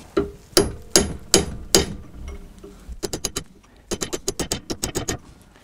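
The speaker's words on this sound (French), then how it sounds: "Puis là je vais y aller carrément au marteau et au burin." Metal hammer strikes ring out: a few heavy, spaced blows, then quick rhythmic bursts of sharp taps, close and loud, a hammer driving a chisel against a Renault Twingo ABS ring.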